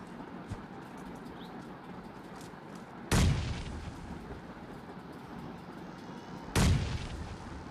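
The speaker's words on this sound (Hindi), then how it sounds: "मैं यहाँ पे थोड़े बहुत ग्रेनेड कर देता हूँ" Two loud, sharp grenade blasts go off in PUBG Lite gameplay about three seconds apart, each booming and then decaying, over quiet outdoor game ambience with faint birdsong.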